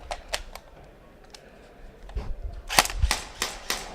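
An airsoft rifle with a recoil system firing, sharp snapping shots with mechanical clacks, sparse at first then a quicker run of shots, close and loud.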